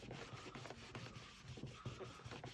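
A washcloth rubs old polish wax off a leather shoe in quiet, close, rhythmic strokes, a soft scrubbing texture with small scratchy accents.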